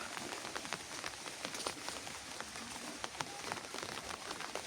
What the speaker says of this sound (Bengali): হিউজ বৃষ্টি হয়েছে হিউজ বৃষ্টি